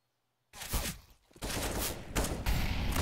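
Sustained gunfire rings out in a Counter-Strike round on the Inferno map, starting abruptly after silence, with dense, loud volleys, a brief lull, then renewed continuous shooting close up.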